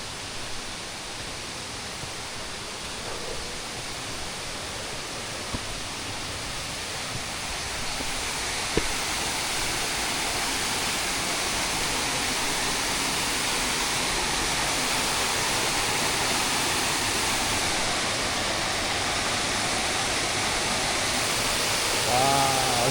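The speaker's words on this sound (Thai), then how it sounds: "น้ำตกชั้นที่1นะครับ" The first tier of Huai Yang waterfall in a Thai national park, a steady broadband rush of falling water that fills the scene continuously, loud and close, with no talk.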